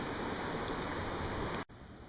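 Steady broadband rush of stream water spilling over a small waterfall into slack water during spring trout fishing in Pennsylvania, close and loud with no voices, cutting briefly to a quieter continuation near the end.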